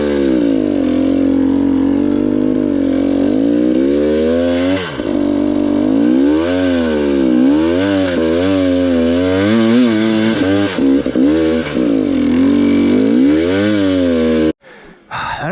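Hard enduro motorcycle climbing a steep hill trail, engine loud and close, revving up and down through repeated throttle surges and zigzags before cutting off abruptly at the end.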